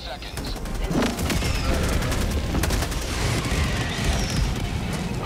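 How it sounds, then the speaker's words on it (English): Airstrike explosions and gunfire in a first-person shooter video game: dense, continuous booming and rattling fire that stays loud throughout, with a few sharper blasts cutting through. "Calling an airstrike."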